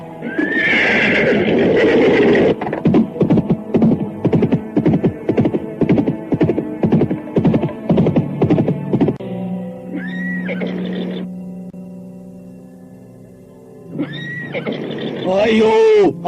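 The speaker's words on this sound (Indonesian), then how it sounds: "Kuda-kudaku pelari cepat." Horses at a horse market whinny and neigh with strained, rising calls, mixed with quick rhythmic clip-clop hoofbeats and hum. Voices talk over the animals near the start and near the end.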